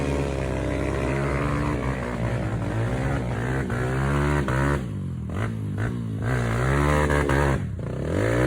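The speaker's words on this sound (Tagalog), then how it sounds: "Lakas ng motor ko!" A motorcycle engine revs hard on a traditional hard enduro trail ride, snarling loud and close with rising and falling pitch and a few brief throttle dips, no talking heard.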